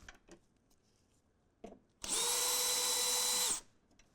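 A power driver with a 7/32 bit spins out a screw from the floor of a 2024 Ford Transit van, giving one loud, steady whine lasting about a second and a half, preceded by a few faint clicks and handling sounds.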